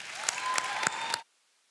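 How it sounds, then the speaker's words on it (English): Applause from a graduation audience at the Manhattan College graduate commencement, a short burst of dense clapping lasting just over a second before it cuts off abruptly to silence. "Graduates, please give all of these people in your lives a round of applause."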